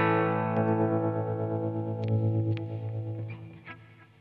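Electric guitar basic tone with light ambience and tremolo: a sustained chord ringing out and slowly fading, with a few soft string touches near the end.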